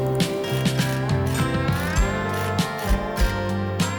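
A ratchet tightens a nut on the suspension of a 2015-or-later Ford F-150 during a Steeda leveling kit install, near the spindle and upper control arm. It gives a steady run of quick, close, crisp mechanical clicks in short bursts.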